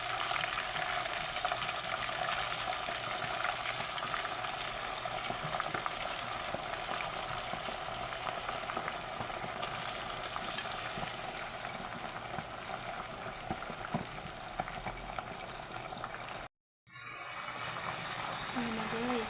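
Chicken frying in hot oil for fried chicken with gravy makes a loud, dense, continuous sizzle close up, broken once by a brief silent gap before the crackling resumes.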